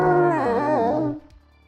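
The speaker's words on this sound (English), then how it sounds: "and let out one last howl." A dog lets out a single long, mournful howl up close, its pitch wavering and bending before trailing off into quiet after about a second.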